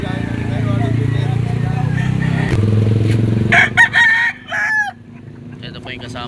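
A 1.5 Gilmore-bloodline stag rooster crows loudly and close by at the Lipa Livestock Auction Market in Batangas, its calls rising over a steady background din of the busy market.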